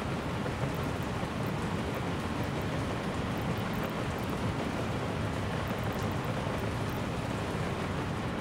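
Steady rainfall in the city-building game Workers and Resources: Soviet Republic, a dense, even hiss of rain with distant rumbling underneath, continuous for several seconds and free of talk.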